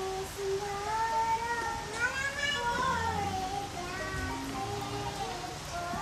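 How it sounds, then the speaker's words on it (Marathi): Steady rain pours down while children's voices and chatter carry over it throughout. "बघा पाऊस आलाय मोठा."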